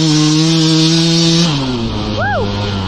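KTM 150 two-stroke dirt bike out on a lap, engine loud and close with a steady high buzzing rev that drops in pitch partway through, then a brief quick blip of the throttle.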